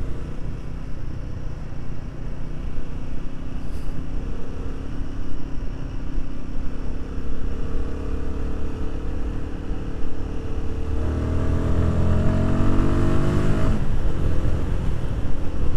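A Royal Enfield Guerrilla 450 motorcycle riding on UK roads, a steady close engine drone under rushing wind that builds as it accelerates toward the end.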